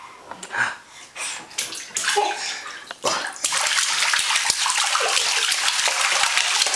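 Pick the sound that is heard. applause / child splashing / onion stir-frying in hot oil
child splashing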